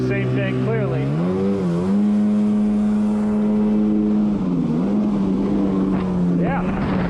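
A two-stroke Yamaha Waveblaster 2 jet ski engine drones loud and close on the water, its pitch rising and settling into a steady buzzing note with a rev toward the end.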